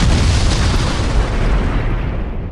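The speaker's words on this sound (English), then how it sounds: "Did Jerry perish in the explosion?" An explosion at a cannery bursts as a loud, heavy roar that fills the whole span, a sustained rumbling boom that slowly eases off over two and a half seconds, with no voices.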